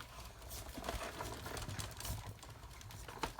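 A Stampin' Up! die-cutting machine is hand-cranked with dies and a cutting pad stacked inside, making quiet rapid ratcheting clicks and a low grinding rumble as the plates roll through.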